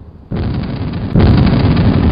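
Loud, dense roaring blasts: a first explosion bursts in, then a second, heavier one hits about a second later and rumbles on without pause.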